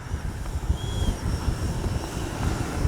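A Freewing 90mm F-22 RC jet makes a touch-and-go on a rough grass strip, its ducted-fan whine and rushing roar heard at a distance, steady and buffeted by wind noise on the microphone.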